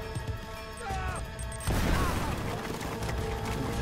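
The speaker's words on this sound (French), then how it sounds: "Grenade." A grenade goes off in an Uncharted action game, a sudden crashing blast midway that leaves a rough, noisy rumble, with talk and game sounds around it.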